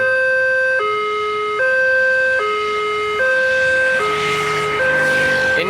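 Warning siren at railway level crossing JPL 92A in Sukomoro, Indonesia, with flasher lights on a wooden barrier: a loud electronic two-tone wail alternating high and low roughly every 0.8 seconds, steady and close, with no talking.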